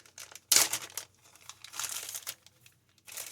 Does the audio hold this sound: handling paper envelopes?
yes